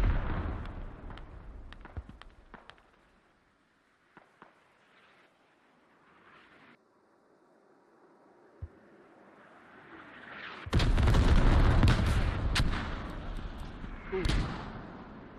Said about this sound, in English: Didn't see that there's actually a artillery strike coming in.